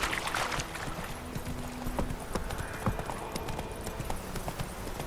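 Horse hooves clip-clop at a gallop in The Witcher 3, a steady close rhythm of hoofbeats with a brief whinny and faint game ambience around it.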